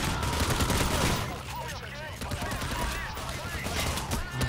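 Gunfire in Payday: The Heist, with shotgun blasts among it, comes as dense, overlapping loud shots from a chaotic firefight, with voices talking over the din.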